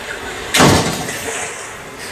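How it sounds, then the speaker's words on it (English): A sliding door slides open in one brief rushing whoosh of sound, followed by a quiet pause and a small knock at the end. "Can you open the sliding door?"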